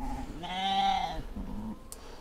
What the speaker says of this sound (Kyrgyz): Булар ургач козулар.